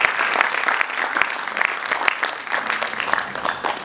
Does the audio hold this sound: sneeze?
no